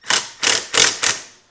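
An impact wrench turns the forcing screw of a 40100 hub remover tool, giving four loud, close bursts of rapid hammering, each about a quarter second long, separated by brief pauses.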